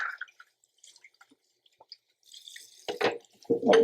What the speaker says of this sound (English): Rinse everything off over here and put it back